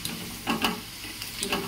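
Potatoes fry in a pan until browned, a close, steady sizzle broken by several brief stirring scrapes and crackles.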